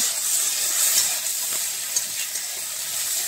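Bottle gourd leaf paste cooking in a pan, a continuous bright hiss and faint sizzle with occasional soft stirring scrapes, close and fairly loud.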